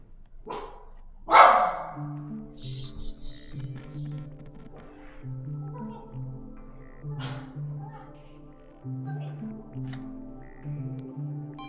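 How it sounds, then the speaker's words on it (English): A couple of sharp, loud dog barks near the start, then softer yips and whines over a steady background hum. "I turned my mic down because Alias was barking so loud"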